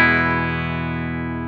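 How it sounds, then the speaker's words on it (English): Dry, unprocessed electric guitar with the bit-depth control of an Ottobit bit-crusher pedal set to maximum, a single sustained chord ringing out loud and clean, slowly decaying over a second and a half with no talking. "Here's my dry guitar with the bits set to max."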